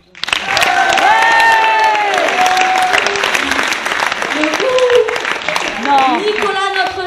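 An audience at a local theatre show claps and cheers loudly and continuously, with shouts and voices rising over the applause.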